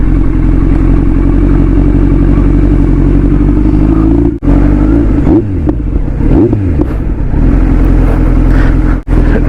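A Kawasaki Z900 motorcycle with a new aftermarket exhaust idles loud and close, a deep rumble with a couple of sharp throttle blips and rising revs, and no voices over it.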